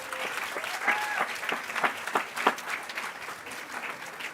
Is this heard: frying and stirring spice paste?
no